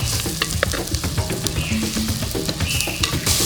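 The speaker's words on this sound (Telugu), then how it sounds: "గుడ్లకు బట్టేటట్టు కలుపుకోవాలి." Peeled boiled eggs are stirred in a hot pan of spicy chilli masala over a wood-fired stove, giving a close, steady sizzle broken by scraping and clicking spoon strokes.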